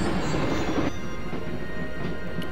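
Steady rumbling roll of a train on rails from the video game Broken Sword, a continuous low clatter with no voices.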